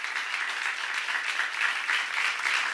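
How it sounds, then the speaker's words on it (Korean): A church congregation at a seminar bursts into sustained applause, a dense, even roar of many hands clapping together at close range for a few seconds. "박수하지."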